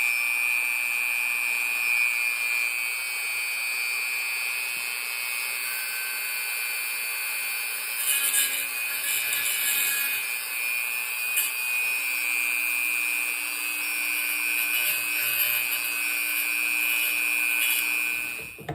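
A Dremel rotary tool cuts with a steady high-pitched whine that rises into a rougher grinding buzz partway through, loud and close, continuous for the whole stretch with no talking.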